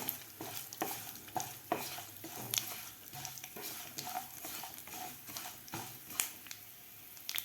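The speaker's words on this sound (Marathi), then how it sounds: "पांढरे तीळ दोन चमचे तीळ घेतलेले आहेत पांढरे थोडंसं आपल्याला चिली फ्लेक्स घालायचा आहे यामध्ये आता व्यवस्थित आपल्याला हे फ्राय करून घ्यायचं आहे" White sesame seeds and chili flakes fry in a pan with a steady sizzle and crackle, while a spoon stirs and scrapes against the pan in repeated strokes.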